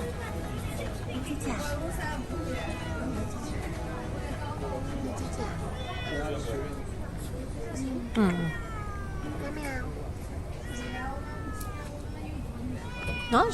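A stray cat on a neighborhood street in China gives repeated rising and falling meows, several distinct calls close by, mixed with a person talking and a light background murmur.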